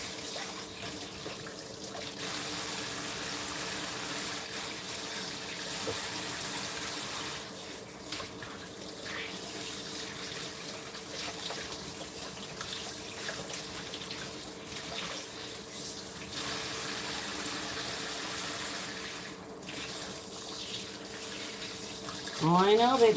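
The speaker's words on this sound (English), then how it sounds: "I swear it changes when I switch it to the spray" A sink faucet on its spray setting pours in a steady, close hiss of water that holds for the whole stretch, with a slight swell near the end and faint voices underneath.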